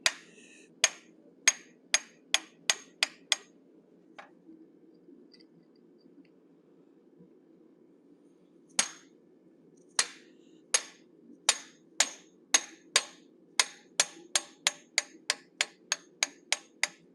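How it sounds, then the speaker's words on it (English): A steel hammer strikes a diamond-shaped eye punch into a hot forged cougar head. Sharp metallic taps come in quick bursts of about eight blows, then a pause, then a longer, faster run of ringing strikes over a faint steady hiss. "for the eyes, I'm using a diamond shaped eye punch, placing it into the sockets we created with our teardrop shaped bob punch"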